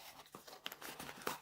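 Tape tears and cardboard crinkles as a brand-new sealed box for a DJI Mic Mini is opened, soft close-up rips and crunches in short bursts.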